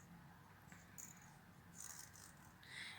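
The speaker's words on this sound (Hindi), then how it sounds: "जैसे कंघी की जो आवाज़ होती है," A plastic comb is run along its teeth for a preschool sound-guessing game, giving a faint, dry, close rattling with small clicks and no voices.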